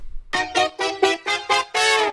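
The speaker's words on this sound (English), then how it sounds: "And then the horns." A short brassy disco horn phrase of several punchy stabs rising to a sustained note, bright and up close with no talking.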